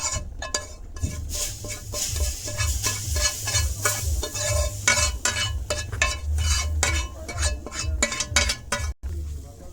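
A spoon works semolina into simmering payesh (milk pudding) in a pot, scraping and clinking against the metal in a steady, repeated rhythm over a low bubbling hiss, close up.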